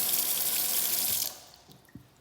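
A kitchen faucet gushes in a steady, bright rush of running water for just over a second, then shuts off, leaving a few faint drips and small clicks in a quiet room.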